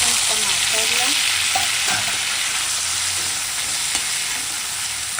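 Bamboo shoot curry with tomato frying in a pan, a loud close sizzle with spatula stirring scrapes and clinks repeating over the steady hiss.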